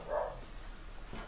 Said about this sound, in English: it was actually a husky.